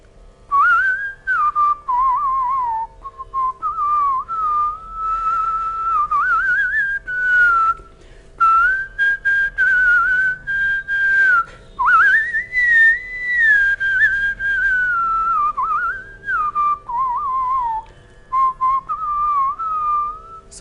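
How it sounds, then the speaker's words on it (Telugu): A man whistles a film song melody solo, clear and close, in long sustained phrases with bends and trills, broken by short breaths. "అవన్నీ నాకు తెలియకుండానే నేను ఆ విజిల్లో హమ్ చేస్తుండేవాడిని"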